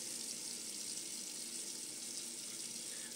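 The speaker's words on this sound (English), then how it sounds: "just going to get some water on the face here real quick." A bathroom tap runs steadily while face washing, a continuous bright rush of water without pauses or splashes, fairly close, with no voices.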